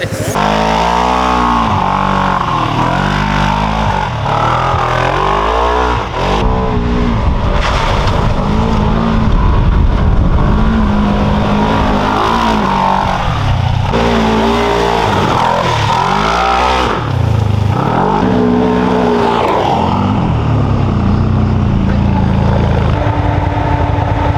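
A Segway Villain or CF Moto SSV side-by-side driving, engine revving up and down repeatedly in strong, close surges, with occasional voices nearby.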